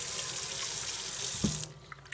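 Tap water gushes steadily into a sink while a bar of coconut oil soap is rinsed, then the flow cuts off and a few small drips and clicks follow.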